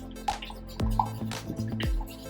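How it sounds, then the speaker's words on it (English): Watermelon jello slime being stirred together with pink glitter, giving wet, squishy drips and plops in an irregular rhythm, close and moderately loud with no talking. "And now I'm going to mix it all up"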